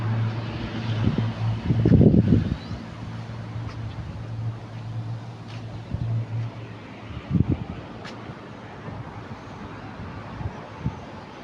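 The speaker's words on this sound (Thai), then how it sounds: "อันนี้ลมมาเริ่มมาแล้วครับ" Soft wind whooshing outdoors ahead of evening rain, with a stronger gust early on and another brief surge later, fairly quiet overall with faint background hum.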